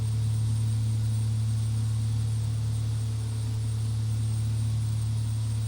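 Carenado B200 King Air turboprop cruising in the X-Plane 11 flight simulator, a steady loud cabin drone with a strong low hum and constant propeller buzz, unchanging throughout.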